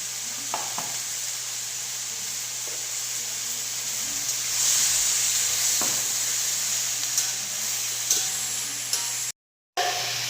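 Vegetables and salt frying in a pan in a home kitchen, with a steady loud sizzle and hiss throughout, a few faint clinks of stirring over the top, and a brief dropout near the end.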